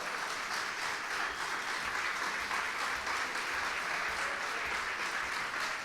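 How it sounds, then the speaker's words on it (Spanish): A church congregation applauds during a worship service, a steady, dense wash of many hands clapping together that holds at an even level throughout. "Dale un fuerte aplauso al Señor."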